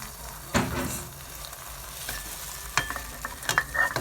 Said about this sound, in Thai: เปิดเตาใส่น้ำมันนิดหน่อยนะคะ แล้วก็เดี๋ยวเราจะใส่ไข่ลงไปเลย